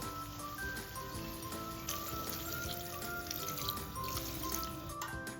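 Water, about one tumbler, pours steadily and quietly into a cooking pot of mutton, a soft continuous splashing with faint metallic ringing behind it.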